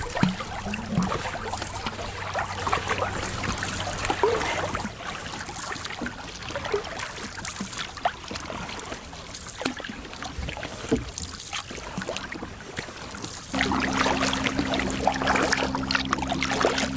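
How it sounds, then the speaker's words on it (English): Gentle canoe paddle strokes dip and trickle through calm water on the Saint John River in Canada, soft and close, with light splashes repeating at an unhurried pace. "It's a nice calm day to paddle this morning."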